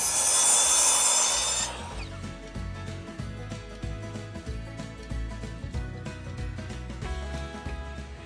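A wood board for a DIY table and island build is cut, opening with a loud, harsh saw burst that stops after under two seconds. Quieter rhythmic knocking and clattering follow.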